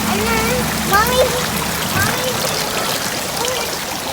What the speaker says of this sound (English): They have so many beautiful water features.